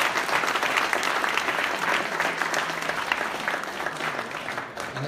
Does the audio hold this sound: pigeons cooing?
no